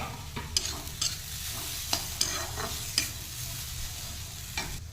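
Grated coconut for narikol pitha sizzles softly in a hot pan while a spoon scrapes and stirs it, with several sharp clicks of metal against the pan over a low, continuous frying hiss.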